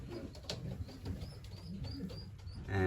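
Young racing pigeons coo softly and repeatedly near the microphone with no one talking, a steady low murmur of calls across the whole short stretch.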